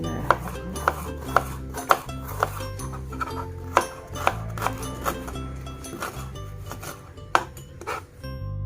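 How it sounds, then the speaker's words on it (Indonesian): A knife chops shallots and garlic on a board in a home kitchen, a steady series of sharp taps with a few louder knocks, close and clear with no talking. "Kita potong-potong dulu untuk bawang merah, bawang putihnya."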